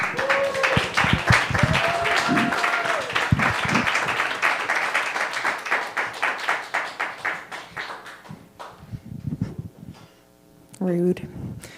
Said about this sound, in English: please give a audaciously loud round of applause for Faye Paulette